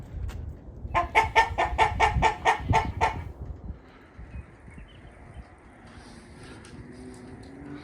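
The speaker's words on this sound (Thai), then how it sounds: "ไก่มาเล่นสโนครับ" A burst of rapid, close chicken clucking in the snow for a few seconds, then fading into quieter cold outdoor ambience with faint distant bird calls, in Oregon.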